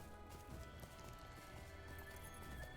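Hooves of a goat mount clatter in a quick rhythm as it climbs a steep slope in Lord of the Rings Online, close and fairly quiet beneath a layer of game ambience.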